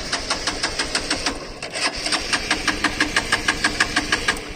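A Hero Xtreme 200R motorcycle out of fuel failing to start: a repeated rapid rhythmic cranking pulse, close and steady, with the engine never catching.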